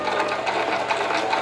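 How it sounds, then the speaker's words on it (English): A sewing machine runs continuously and loudly up close, stitching applique fabric with a steady, even whir and no pauses or voices. "and then I continue to sew."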